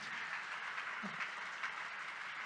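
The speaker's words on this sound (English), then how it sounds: "give all the winners of the Infosys Prize 2022 a huge round of applause" Faint audience applause for the Infosys Prize 2022 award winners at a ceremony, a steady distant patter of clapping throughout.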